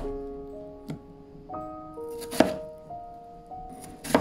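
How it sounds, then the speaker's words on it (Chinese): A knife slicing peeled potato on a cutting board into centimetre slices and strips, a few sharp separate chops spaced irregularly over soft background music, close and fairly quiet. "去皮后切成1厘米的片儿，再切成1厘米的条"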